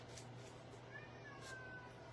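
Indoor cat meowing for treats placed out of reach, a faint short meow over a quiet room hum with a low steady drone beneath.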